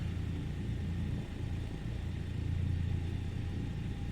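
Douglas DC-3 radial engines idle at about 1,000 RPM in Microsoft Flight Simulator, a steady low rumbling drone that holds evenly throughout without variation.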